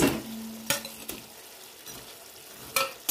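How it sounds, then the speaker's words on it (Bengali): Fried sating fish pieces being turned into a thick masala in a pan, soft sizzling under a few sharp spatula scrapes and clinks spaced through the moment, no voices. "এবার আমি এর মধ্যে শাটিং মাছগুলো যেগুলো ভেজে রেখেছিলাম দিয়ে দেবো"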